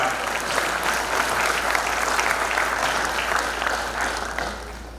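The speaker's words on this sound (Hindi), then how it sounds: "जोर से ताली बजाइए उन आत्माओं के लिए जिन्होंने ये कर दिखाया है।" Loud, sustained applause from a large audience at a university ceremony held for Youth Day in Uttarakhand, a dense wash of clapping filling the hall without pause.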